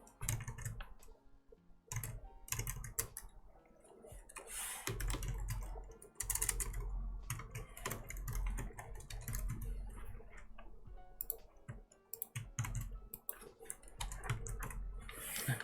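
Fingers type and click on a computer keyboard with worn WASD keys, producing bursts of rapid, close clacking separated by short pauses, with no talking.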